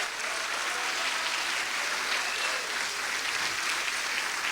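A church congregation claps loudly and steadily for Jesus during a Portuguese-language service, with dense, sustained applause and no speech over it.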